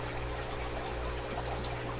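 Water trickling and pouring steadily onto freshly planted ginger rhizomes in a container, a continuous soft stream with no talk over it.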